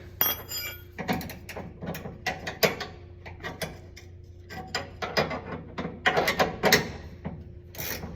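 Ratcheting wrench tightening trailer hitch receiver bolts on a 2013 Ford F-150 XL, quick bursts of clicking in irregular runs, close and fairly quiet, with no talking.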